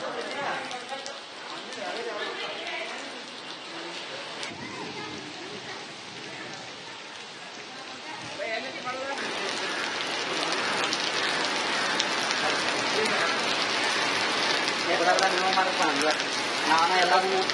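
Heavy monsoon rain in Belagavi pours down in a dense, continuous hiss that grows louder partway through, with a voice talking over it.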